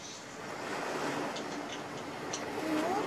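Ocean water in Kirby and the Forgotten Land: a steady, soft wash of surf and waves rolls on without a break, with faint higher chimes over it and no voices.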